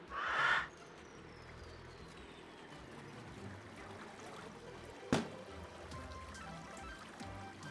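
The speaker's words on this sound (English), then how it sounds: "It was this slime losing his balloon that made that noise" A pop as a slime loses its balloon in the video game Autonauts, heard as a short soft burst near the start and a sharp snap around five seconds, over faint background hiss.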